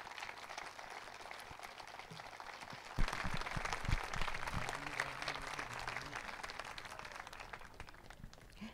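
An audience applauds the 2018 award winner at the Premio Cola Bibu prize ceremony of the Museo di Kòrsou: fairly faint, continuous clapping that swells a little after a few seconds and holds steady.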